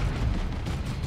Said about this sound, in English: Plasma Cannon gets a decent shot in and runs away.